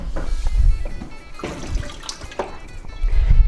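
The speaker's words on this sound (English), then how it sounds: "I'm just going to put a tiny bit of water in the bottom so that it doesn't end up burning." Water splashes into a baking pan as a small amount is added to the bottom before baking, a loud, close, sloshing pour lasting a few seconds with no talking.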